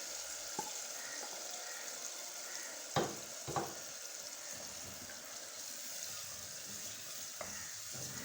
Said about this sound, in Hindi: अब हम इसमें डालेंगे दही और बेसन जो हमने मिक्स किया था वो